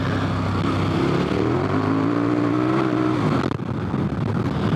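A dual sport motorcycle on Heidenau K60 Scout tires accelerates at full throttle, the engine droning loud and close with a rising pitch before a brief dip near the end.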